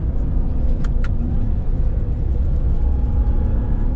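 A 2021 Ram TRX pickup hauls hard off-road, its engine a loud continuous rumble with no clear shifts, heard from inside the cab.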